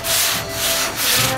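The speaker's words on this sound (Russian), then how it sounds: "И такими движениями вот потихонечку мы с водички будем тереть, потому что забивается шкурка" Roof putty is wet sanded by hand with sandpaper, producing close, loud, rhythmic rasping strokes in a back-and-forth pattern of about two passes per second, with no talking.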